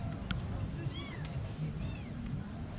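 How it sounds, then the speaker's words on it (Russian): A tiny kitten, less than a month old, gives a few thin, wavering meows outdoors on a seaside promenade in Sharm El Sheikh, Egypt, faint beneath nearby talking and a low hum. "Что-то мяукает."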